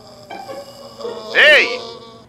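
A mosquito buzzes indoors in a shop: one close, brief whine rises and falls over a steady humming background.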